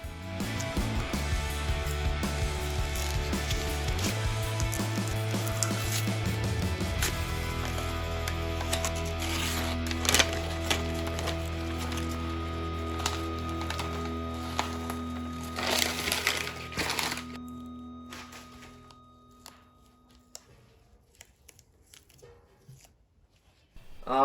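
Unwrapping a finished LP kit electric guitar, crinkling and rustling of wrapping material with scattered sharp crackles and tearing bursts over a sustained hum, fading to near silence toward the end.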